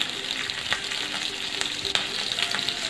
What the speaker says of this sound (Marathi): लसूण परतून घ्यायचं मग हिरवी मिरची टाकायची.